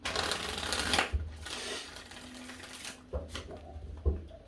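Tarot cards being shuffled, soft riffling and flicking bursts with short pauses between them, close and fairly quiet.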